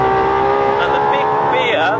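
Ferrari LaFerrari engine pulling hard in third gear, a loud, dense, steady roar that climbs in pitch, with a brief shift-like change near the end and no talk over it.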